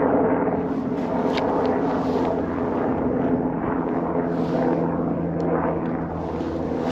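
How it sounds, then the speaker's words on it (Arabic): Rescue helicopter passing overhead in the Twelve Bens mountains of Connemara at sunset, a steady droning rotor and engine roar, moderately loud and continuous with a slight swell. "في ريسكيو هليكوبتر."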